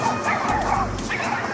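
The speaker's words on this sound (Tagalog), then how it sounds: "nag-aaway-aaway yung mga aso" Several dogs fight up close, with sharp yips, whimpers and barks tumbling over one another in a short, frantic burst; a person's voice can be heard underneath.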